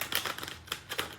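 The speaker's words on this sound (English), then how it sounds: "I'm gonna shuffle this one time for you." Tarot cards shuffled by hand in a few quick, crisp riffling bursts, close and clear, with no voices.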